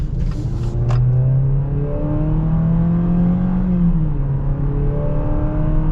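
A 2022 Jeep Compass Trailhawk SUV accelerates from inside the cabin, its engine droning and rising in pitch through the gears with a steady loud rumble and no talking.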